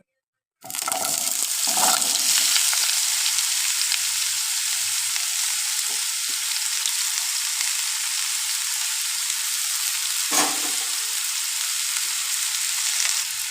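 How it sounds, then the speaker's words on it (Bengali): Potatoes fry in hot oil in a pan for an eggplant and river fish chachchari, hitting with a loud burst of crackling sizzle that holds steady and close, with a few faint clinks and no voices. "তেল ধুয়ে রাখা আলুগুলো দিয়ে দেব সুন্দরভাবে লাল লাল করে ভেজে নেব"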